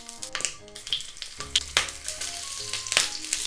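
Oil sizzles and crackles in a frying pan with filled shishito peppers, sharp pops and spits, close and fairly loud, followed by a brief low rumble.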